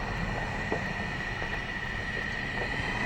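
A steady low rumble of a freight switcher train moving slowly on factory tracks nearby, constant and unbroken with no voices.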